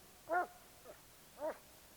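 Hunting dog in theHunter: Call of the Wild, two or three short, faint whines or yips spaced about a second apart against quiet background noise.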